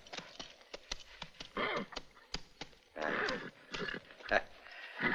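A horse whinnies and snorts in several bursts, with hoof clatter and scattered thumps between the calls, fairly close and loud.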